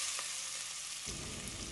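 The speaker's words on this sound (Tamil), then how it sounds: "அதில் தாளிக்கிறதுக்கு ஒரு 3 துண்டு பட்டை, ஒரு 3 கிராம்பு, 4-5 ஏலக்காய் சேர்த்துக்கணும்" Cinnamon, cloves and cardamom sizzling in hot coconut oil for a goat trotter paya, a soft steady crackle that grows fuller partway through.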